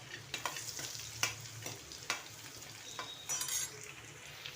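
Green chillies frying in hot oil in a pan make a soft, steady sizzle, with scattered spatula clicks and scrapes and a brief louder spitting burst near the end, fairly quiet and close with no voices.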